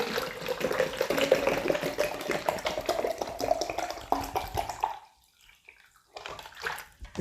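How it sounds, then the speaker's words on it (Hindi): Water running from a tap into a cut-off half of a plastic bottle, a steady splashing gush for about five seconds, then a brief stop and a short final trickle. "मैं इसमें पानी भर देता हूँ।"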